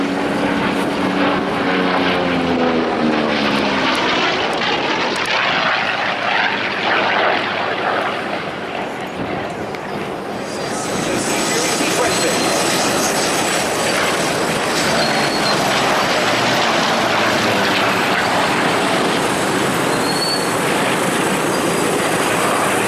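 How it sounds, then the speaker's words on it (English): A Goodyear FG-1D Corsair naval fighter makes a loud, close pass at an air show. The roar of its propeller engine swells and shifts in pitch, then settles into a steady, broad drone for the rest of the run. "Running in the Goodyear FG-1D Corsair."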